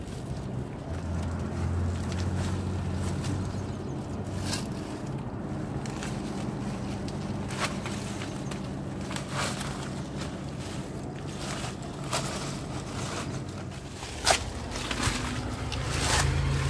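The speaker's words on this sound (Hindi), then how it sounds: "इसलिए गाड़ियों की आवाज़ आपको सुनाई दे रही है।" Vehicles passing on a road beside a cave, heard as a low, steady engine rumble with a few swells as traffic goes by, plus scattered sharp clicks and rustles nearby.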